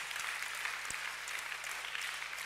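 A church congregation applauding in praise, dense, even clapping from a crowd heard at a moderate distance, steady throughout the short stretch.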